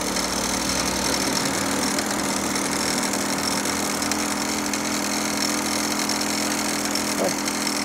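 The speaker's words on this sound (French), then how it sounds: "On va laisser le moteur faire, je pédale pas." A small motorized bike engine pulls uphill with no pedaling on a cold, rainy day, a loud, steady buzzing drone running close and continuous throughout.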